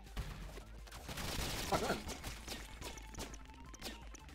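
Rapid gunfire bursts and impact hits from the video game ROUNDS, played in a modded version, come as dense overlapping volleys, loud and continuous.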